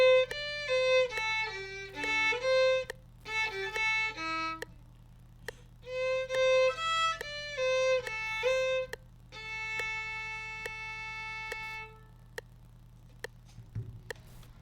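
Violin playing a phrase from a song in short melodic bursts of bowed notes, pausing between groups and ending on a longer held passage, with a steady low hum underneath.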